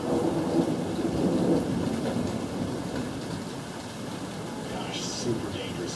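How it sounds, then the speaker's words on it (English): A dangerous thunderstorm with steady heavy rain and rolling thunder, a continuous loud wash of rain noise with deeper rumbles, while voices talk over it near a large truck. "This is a very dangerous storm."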